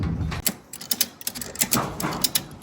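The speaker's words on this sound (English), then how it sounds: "Now we need to throw the ratchets over." Ratchet straps being cranked tight over a scaffolding load in a yard, a rapid series of close metallic clicks and clacks in uneven bursts, with no talk.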